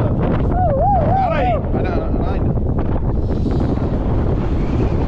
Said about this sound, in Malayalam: കാറ്റുണ്ട് കാറ്റുണ്ട്,